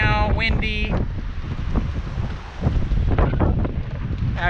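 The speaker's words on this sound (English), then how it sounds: "as you can see, there is some wind today" Gusty wind blows outdoors on a warm day by a school at the start of a trail, buffeting the microphone with a steady low roar that dips briefly midway, plus a few faint sounds near the start.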